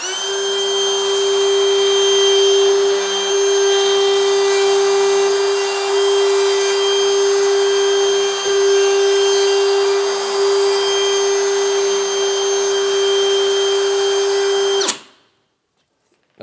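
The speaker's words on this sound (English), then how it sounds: "So now it's time to route." A plunge router cuts a deep mortise guided by a template for pocket door hardware, a loud steady high-pitched motor whine with a slight shifting grind as the bit works the wood, then abruptly spinning down to silence.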